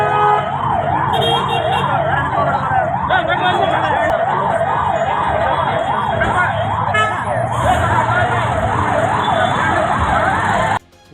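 A fire engine siren wails in a steady, rapid rise-and-fall pattern, loud and close for the whole stretch, over a rumble of road traffic, responding to a fire.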